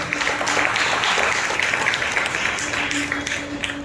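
A congregation clapping loudly during a New Year church service in Nellore, dense sustained applause filling the hall, close and strong, with some voices blended in.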